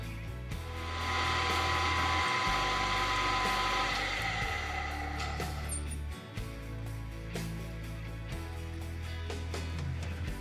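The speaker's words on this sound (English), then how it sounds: "I'm going to go ahead and drill it out" A steady, loud milling machine drone with a motor hum runs throughout, with brief dips in pitch as the cutter drills holes in aluminum.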